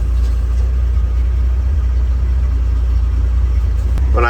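A 1951 Dodge Power Wagon with its clutch pushed in gives a steady, loud engine rumble throughout, with a faint rubbing noise from the clutch beneath it and a brief higher sound at the end.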